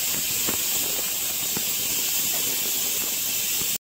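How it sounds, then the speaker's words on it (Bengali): Peas boil in a pot on a small stove set up on a staircase, producing a steady close hiss of steam and bubbling with a few soft thumps, continuous until it cuts off abruptly. "এইখানে মটরটা সেদ্ধ হচ্ছে।"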